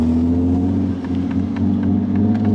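Nissan 370Z fitted with aftermarket intakes drives along, a steady loud engine drone with a rising tone and low rumble throughout, no talking.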